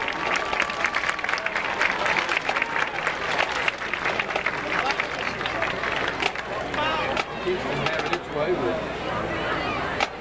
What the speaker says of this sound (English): One last applause for the Loudon High School Marching Band.